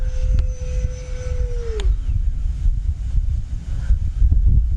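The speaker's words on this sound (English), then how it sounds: "God, this is an amazing jet" Freewing F/A-18C Blue Angels 90mm electric ducted-fan RC jet flying outdoors, a steady whine that drops in pitch as it passes, heard over constant wind rumble on the microphone.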